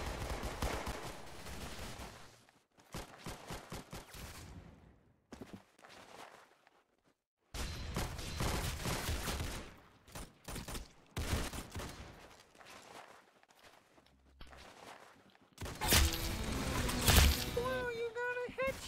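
Gunfire in the Roblox shooter Arsenal, rapid bursts of automatic shots broken by pauses and silent gaps, with voices talking over parts of the action.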